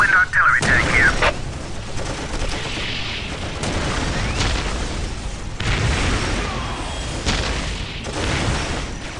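Booming artillery blasts and scattered gunfire from a Whirlwind tank in the video game Dawn of War roll through a noisy battlefield, with repeated explosions and unit voice lines heard over the din.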